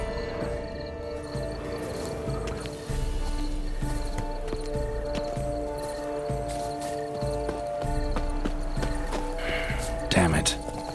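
Steady clip-clop of a horse's hooves walking in The Witcher 3: Blood and Wine, over a layered game soundtrack with music and ambient tones, with a brief louder burst near the end.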